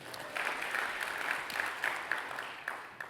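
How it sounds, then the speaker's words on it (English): Conference audience clapping in a hall, a steady round of applause lasting a few seconds at moderate distance, with a few individual claps standing out and little talk. "Can I get a hand clap for the networking reception?"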